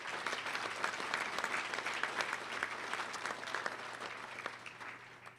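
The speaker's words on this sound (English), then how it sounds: "Let's give them a round of applause for doing that" An audience at a Little Rock Touchdown Club meeting applauds in a steady, moderately loud wash of clapping that lasts several seconds, with no talk over it.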